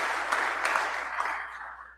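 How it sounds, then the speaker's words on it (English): An audience claps during a state of the state address, a short, fairly distant burst of applause that fades out over about two seconds. "Waiting for applause."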